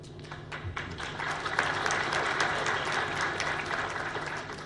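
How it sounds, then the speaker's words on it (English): Loud, sustained audience applause fills a hall at a business summit in Islamabad, a thick, even roar of many hands clapping that swells slightly midway and holds for nearly five seconds without talk. "I listened to that applause here"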